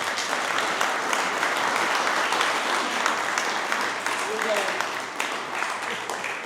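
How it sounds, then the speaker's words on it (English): A lunchtime talk audience gives a sustained round of applause, a steady wash of many hands clapping throughout, loud and full in the room, fading slightly toward the end. "Can we give them a round of applause for sharing?"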